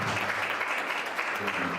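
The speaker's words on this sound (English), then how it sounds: "Let's give him a round of applause." Applause at a portfolio committee gathering: a sustained wash of many hands clapping in a hall, steady and moderately loud for the whole stretch.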